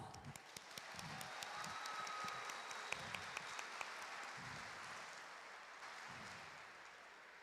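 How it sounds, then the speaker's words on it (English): Faint, distant applause rolls through a large arena at a school robotics competition, steady clapping with a few sharper claps standing out, while low voices murmur underneath. "Please give a round of applause."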